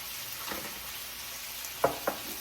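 Jarred garlic sizzles quietly in a pan as it is stirred, a soft, steady frying hiss broken by two sharp scraping clicks near the end, with no talk.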